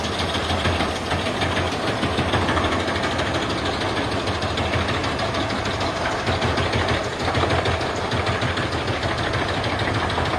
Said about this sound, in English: The green wood chipper works steadily and tirelessly, a vital part of the logging operation at the forest site.